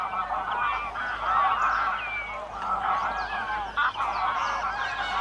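Many geese honk together in a dense, overlapping chorus, loud and close, calling continuously without pause, in Doñana, Spain.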